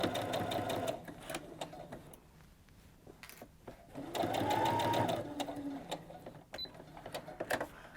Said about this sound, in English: We're just going to sew the start in.